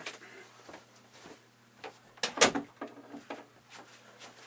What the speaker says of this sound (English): I'm gonna go close my door.